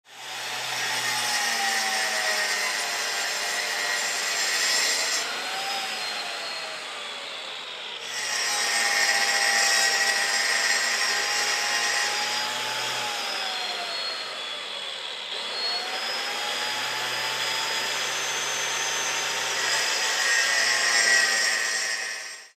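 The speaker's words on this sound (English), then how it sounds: "This is a great tool for cutting perfect circles every time." A high-RPM tool cuts circles into concrete, a loud sustained grinding whine with a sliding pitch, running in three long passes separated by brief dips.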